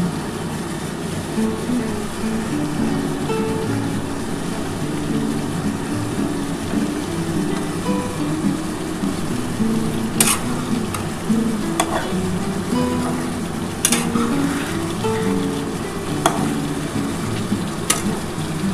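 Capsicum fries over a high gas flame in a spicy catla fish curry, a loud, steady sizzle broken by several sharp scraping stirs of the spatula against the pan.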